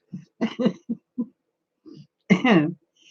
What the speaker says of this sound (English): Excuse my cough and my rattle, girls.